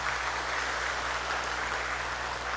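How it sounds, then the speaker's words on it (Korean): A church congregation at a Sunday worship service claps together in steady, loud, sustained applause filling the room, with no voices over it. "우리 인사할 때 박수로 우리 격려하겠습니다."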